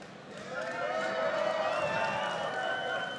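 A crowd of fans at TwitchCon cheers and shouts for Team Red, a sustained roar of many voices swelling and holding loud in a large hall.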